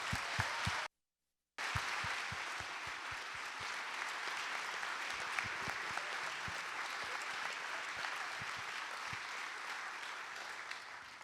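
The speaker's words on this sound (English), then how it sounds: "join me in a huge round of applause for the 6 outstanding student leaders" An audience applauds six student leaders at a charity fundraiser event: steady, continuous clapping heard at a distance, with a brief dropout near the start.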